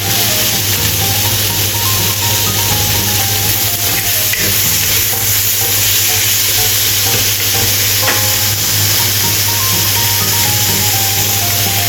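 Celery and tofu stir-fry in a wok, seasoned with salt and chicken powder: a loud, steady sizzle with continuous stirring and scraping throughout, and no voices.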